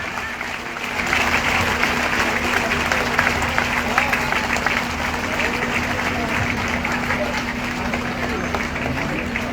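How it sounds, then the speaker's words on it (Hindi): An audience at a public meeting in Badam Pahar applauds invited guests, the clapping rising after a second and continuing as a sustained, moderately loud patter over a steady electrical hum. "और आप सबकी तालियां होनी चाहिए उन सभी के लिए।"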